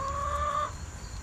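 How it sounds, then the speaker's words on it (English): Chickens cluck faintly in the background, one drawn-out tonal call heard over a steady low hum with no speech. "You can hear the chickens in the background."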